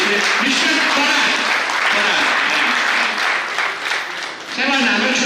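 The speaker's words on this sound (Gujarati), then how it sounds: "જોરદાર તાળી પાડશો" Sustained audience applause fills an award ceremony for a best teacher award at a day care school, loud and continuous throughout, with some voices mixed into the clapping.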